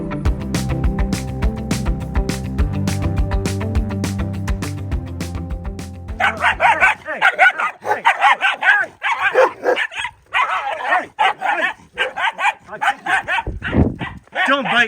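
A dog at a monastery in Syria barks and yips repeatedly in quick, loud bursts close by, following a stretch of music, with people talking over the barking.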